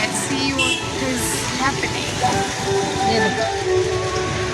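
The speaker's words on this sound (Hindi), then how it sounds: "बारिश बंद नहीं है, कंटिन्यूअस." Steady heavy rain hisses and patters over a dense background of Delhi street traffic noise, with voices murmuring faintly beneath.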